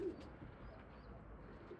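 Breeding pigeons coo softly inside a coop, low murmuring calls at the start and end over a faint, steady background hum, quiet and close.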